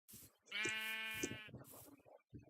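Sheep in the Minecraft video game bleat in a clear, drawn-out call, followed by a second shorter bleat, with soft clicks and small game noises around them.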